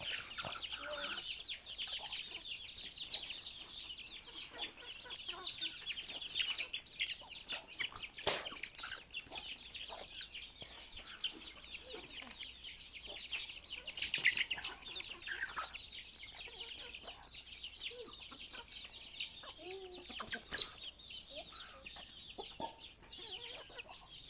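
Hens cluck steadily at a distance over a constant hiss of background noise, with a few louder calls standing out now and then.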